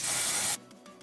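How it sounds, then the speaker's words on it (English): A short burst of makeup spray hisses onto a Kabuki buffer foundation brush, bright and close, then cuts off abruptly into near quiet. "The way I use it is I spray it on a foundation brush."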